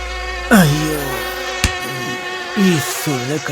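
Mosquitoes whine around a room in a Kannada film scene, a thin insect buzz with swooping, wavering tones that rise and fall in short bursts, close and fairly loud.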